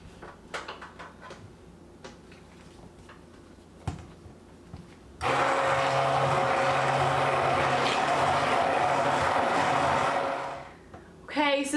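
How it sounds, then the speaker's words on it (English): An immersion blender whirs steadily for about five seconds while pureeing thick pumpkin butter, a loud continuous motor drone that cuts in abruptly and winds down near the end, preceded by quiet kitchen clatter. "I might run my immersion blender through here just one more time to make sure that it's nice and smooth"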